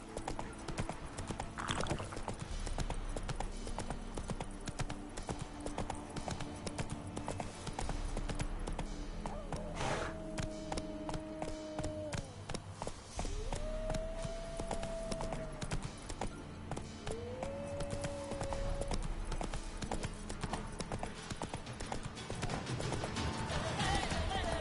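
Roach the horse gallops in The Witcher 3: Wild Hunt, with a steady rapid clip-clop of hooves throughout. Short rising whinny-like tones recur midway, and there is no talk.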